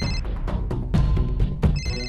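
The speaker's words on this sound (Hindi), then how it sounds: "भले न सुनाई दे रही हो एसआरके के सेल फोन की घंटी," A phone ringtone plays loudly and steadily, its bright electronic tones repeating in a quick pattern with no voices.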